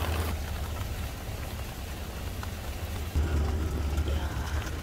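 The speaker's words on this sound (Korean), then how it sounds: "우박이 오고 있어 이렇게" Hailstones patter and clatter onto a container vegetable garden with bellflower root plants, a soft, dense rattle fairly faint and steady, with a low rumble building in the last couple of seconds.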